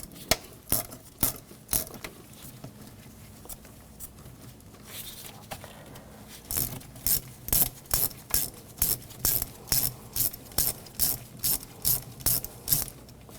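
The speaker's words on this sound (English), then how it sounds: "Using a 12mm ratchet wrench, take the two nuts off underneath here" A 12mm ratchet wrench clicks while taking two nuts off underneath on a 1995-2004 Toyota Tacoma during an idle air control valve job. Scattered clicks come first, then a steady run of close, rhythmic ratcheting bursts.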